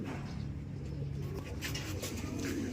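A pet pigeon named Pula coos softly and close by, a brief low murmuring against steady background hum, with no talk.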